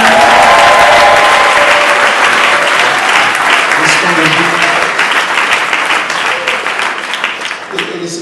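A church congregation applauds loudly and continuously for several seconds, with a dense wash of clapping that tapers slightly toward the end.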